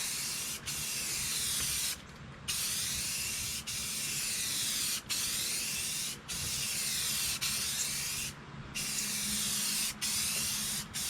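Spray gun laying a light dust coat of paint on a 1957 Plymouth Fury, a loud close steady hiss in long passes broken by brief gaps where the trigger releases.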